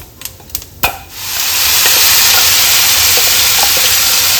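A few light clinks, then a loud, steady sizzle bursts up as moong dal hits hot oil and keeps hissing close by.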